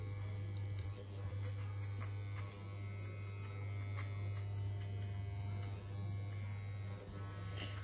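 An electric hair clipper buzzes steadily during a haircut, a close, constant hum with light scraping passes as it moves over the head.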